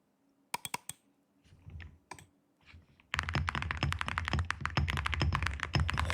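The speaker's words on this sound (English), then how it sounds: "there are these new keycaps, guys, that are becoming popular in the keyboard scene. They're called ceramic keycaps." Typing on a keyboard fitted with ceramic keycaps, at first a few scattered taps and clicks, then a dense run of fast, sharp, close keystrokes with no talking.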